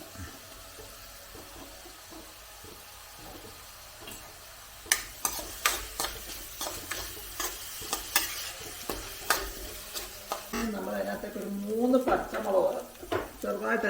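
Sliced onions with salt and crushed garlic sautéing in a pan for an egg masala: a quiet sizzle builds into a run of sharp, rhythmic stirring scrapes, close to the microphone, with brief running water near the end.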